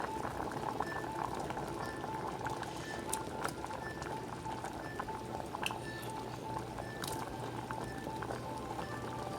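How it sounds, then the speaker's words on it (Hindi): Chopped bottle gourd goes into a pot of simmering gram lentils, giving a steady soft bubbling and liquid burble with a faint tonal hum, quiet and continuous. "अब इसके बाद हम इसके अंदर जो लौकी काटी है वो डाल देते हैं।"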